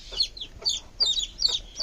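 Chickens on a poultry farm clucking in short, close, repeated bursts, several sharp calls in quick succession with quiet gaps between them.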